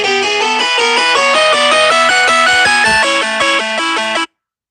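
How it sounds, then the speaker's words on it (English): A phone ringtone plays loud and close during a live stream, a repeating melodic electronic pattern running steadily for about four seconds before cutting off abruptly. "Phone calls always happen in the middle of a live stream."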